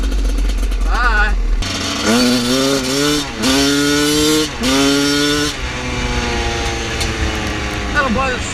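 A dirt bike engine revs hard in a series of rising and falling throttle blips, loud and close, with brief idle gaps between the bursts.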